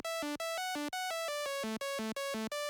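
A lead melody on an initialized Sylenth synthesizer preset, bright buzzy notes with dense harmonics stepping up and down in a quick, even rhythm, each note cut off sharply before the next, dry and alone.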